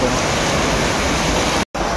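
Heavy rainwater rushes fast through dam gates after rain, a loud, steady broadband roar that fills the whole clip, with one momentary dropout near the end.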